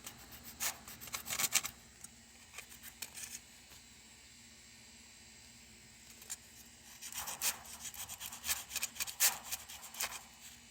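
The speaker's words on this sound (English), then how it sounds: "Just scraping it off." Coating being scraped off an ESEE 6 knife blade, heard as close, quiet rasping strokes in irregular bursts with a calmer stretch in the middle.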